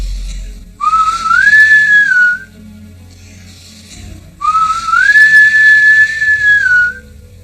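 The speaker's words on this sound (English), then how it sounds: "There's a boatswain's whistle for attracting attention" A boatswain's whistle is blown twice in loud, piercing calls, each rising to a held shrill note and then dropping, separated by a short pause with low background noise.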